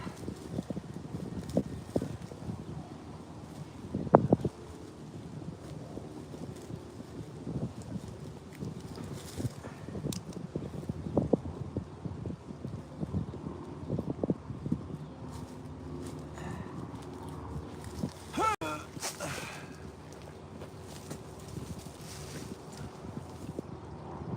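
Strong wind buffeting an archery net, a faint, uneven rustle with irregular flapping thumps and knocks over a low windy rumble, no talk.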